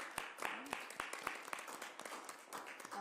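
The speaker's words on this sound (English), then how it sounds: "I think they deserve a round of applause." Applause at a Malden city council meeting, a brief patter of scattered hand claps from the room, fairly faint and uneven, lasting a few seconds.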